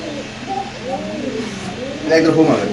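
Pigeons coo in soft rolling calls at a busy pigeon market, close and fairly loud, with a seller talking over the birds and crowd noise building toward the end.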